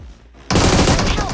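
Gunfire from the mobile shooter game PUBG Mobile bursts in suddenly after a quiet moment, a loud, dense rattle of rapid shots that fills the rest of the short clip.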